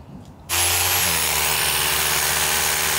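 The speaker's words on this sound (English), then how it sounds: "So Big Man is drilling 100 mil into the existing slab." A power drill bores 100 mm into an existing concrete slab, starting abruptly after a brief quiet moment and then grinding loudly and steadily, close by, with a harsh buzzing roar.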